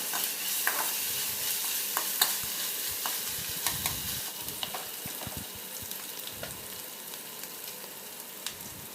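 Onions browned with a spoonful of ginger-garlic paste sizzle steadily in a frying pan for chicken pulao, with frequent spoon scrapes and taps as the mixture is stirred close by, and no voices.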